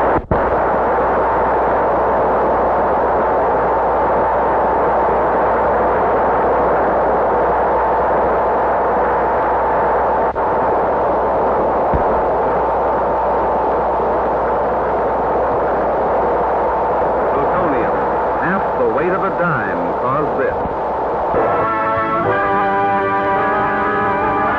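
A 1946 nuclear atom bomb test explosion produces a long, loud, continuous roar that rumbles steadily for about twenty seconds, breaking into rattling, fluttering tones near the end.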